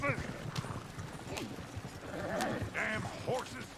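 Hooves clopping and a horse whinnying amid shouting voices, busy and close, in the video game Red Dead Redemption 2.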